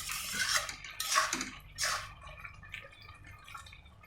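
Carrot halwa simmering with milk is stirred in a pan, with a few distinct spoon scrapes and clinks against the metal in the first two seconds, then quieter bubbling and faint stirring close by, no voices.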